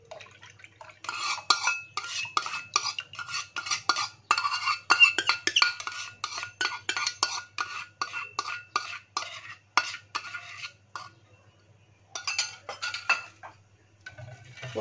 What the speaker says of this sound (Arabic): وهندوب كويس الزبادي باللبن.